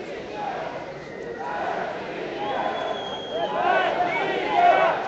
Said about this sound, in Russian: Кричат.